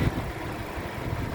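A 2015 Suzuki Ertiga 1.4 GX manual, with a 1400 cc four-cylinder engine and front-wheel drive, idles with its bonnet open, giving a steady, close, low hum.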